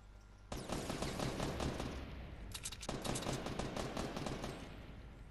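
Sustained rapid gunfire in the video game Fortnite, a dense burst of overlapping shots that runs continuously and loudly for several seconds, with a sharper cluster of shots partway through.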